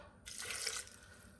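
Half a cup of water poured into a blender for cilantro jalapeño hummus, a brief soft splashing pour that starts abruptly and fades within about a second, close by with no talking.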